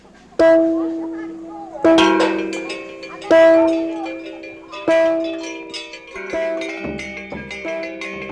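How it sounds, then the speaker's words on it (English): A Balinese gong is struck several times at irregular intervals, each loud metallic hit ringing out with a sustained shimmering tone that slowly decays before the next strike, the later ones softer and more clustered. "one of which is this gong, which is also from Bali."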